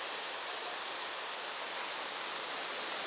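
Manjhar Kund waterfall at Sasaram plunges into a deep gorge, giving a steady, dense roar of falling water that holds evenly throughout with no voices.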